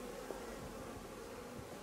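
Honey bees hum at an open hive during a summer honey harvest as a bee escape is fitted between two supers, a faint, steady, continuous drone with no voices.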